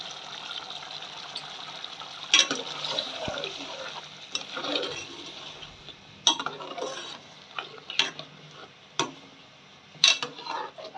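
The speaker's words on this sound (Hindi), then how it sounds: "जो गोश्त है इसको अच्छी तरह भूनें" A spoon stirs mutton and yogurt frying in a pot for qorma. Soft continuous sizzling is broken by sharp scraping knocks of metal on the pot every second or two. No one speaks.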